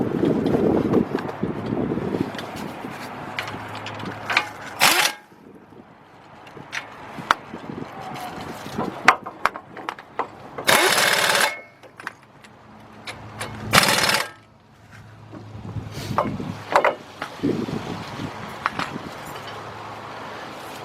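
Two 18 mm bolts are tightened on the front hub of a 2003 Chevy Trailblazer. Several short, noisy mechanical bursts stand out over quieter clicks and handling sounds, with no talking.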